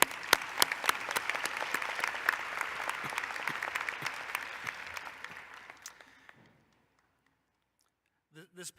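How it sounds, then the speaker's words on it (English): An audience applauds at a university commencement ceremony, with steady clapping that stays strong for several seconds, then fades out into silence. "Let's give both of our speakers another round of applause."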